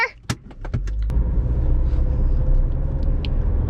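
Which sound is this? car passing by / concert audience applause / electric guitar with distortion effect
car passing by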